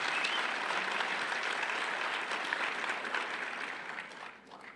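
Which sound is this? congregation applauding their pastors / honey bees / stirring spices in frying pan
congregation applauding their pastors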